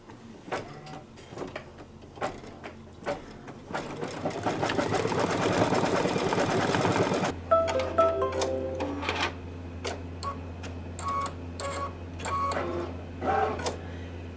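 Embroidery machine sewing a belt tack-down stitch on a Santa table runner, with a steady rapid mechanical chatter running loud for several seconds, then a lower steady hum with lighter clicks and taps.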